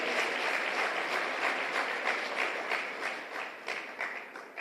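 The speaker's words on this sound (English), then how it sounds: "Put your hands together for them." Audience applause at a Jamaica Constabulary Force graduation ceremony, a broad steady roar of many people clapping that holds at even volume and eases slightly toward the end.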